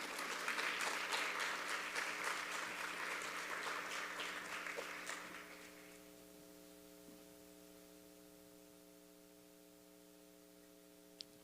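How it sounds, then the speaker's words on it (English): Audience applause at a talk, a sustained burst of clapping from many hands that fades out around six seconds, leaving a steady electrical hum and faint static. "Y'all can applaud again."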